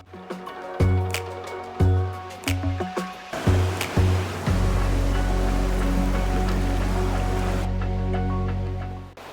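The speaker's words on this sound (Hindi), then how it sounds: "कैसे निकल रहा है, कमाल हो गया, गजब। देखो कितना पानी निकल रहा है" Spring water gushing from the ground into a pool at Achabal in Kashmir, a steady loud rush that builds after a few seconds of scattered splashing and clatter, holding constant to the end.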